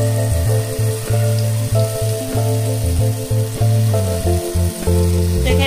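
Cashew paste hits hot oil in a pan for a Bengali vegetarian paneer dish and sizzles loudly and continuously, a dense close frying hiss with faint stirring, and no one speaking.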